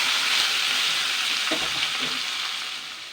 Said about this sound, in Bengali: এরপরে আমি পেঁয়াজ কুচানো টমেটো আর কাঁচা লঙ্কাটাও দিয়ে দিচ্ছি